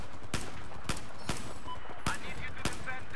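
Gun in a Mortal Kombat 11 mod video game fires five sharp, evenly spaced shots, each a loud crack cutting through a low background, with a voice talking faintly beneath.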